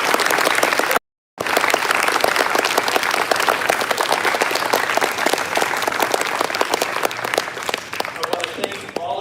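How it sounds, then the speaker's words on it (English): An audience at a Black Student Union speaker series event bursts into sustained, dense applause for Admiral Lawrence Chambers, loud and continuous clapping from a full room after a momentary cut near the start. "Can we please give Admiral Lawrence Chambers a round of applause?"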